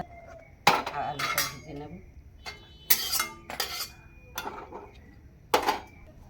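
Freshly boiled figs are tipped from a hot pot into a basket in a home kitchen, with a series of sharp metallic clanks and clatters in separate bursts and quiet pauses between.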